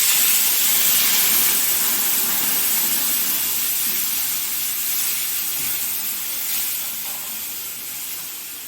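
Thick milk with cream boiling in a pan over a high flame for Bihari peetha, a steady broad hiss and sizzle of steam that runs alone throughout, easing off slightly toward the end.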